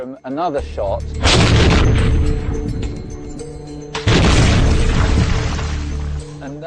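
Two heavy cannon shots fired at a target, each a loud booming blast at about 1.3 and 4 seconds followed by a long rumbling decay, with faint voices before the first.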